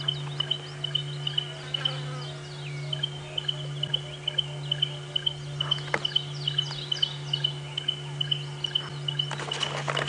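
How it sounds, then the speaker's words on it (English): Birds call repeatedly in short, chirping bursts over a steady low hum during a sunrise safari drive, with the calls fairly faint and spread across the whole stretch. "Oh, listen to this bird, everybody."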